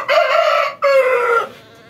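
A rooster crows loudly nearby beside a small chicken coop, two drawn-out calls in quick succession trailing into softer clucking at the end.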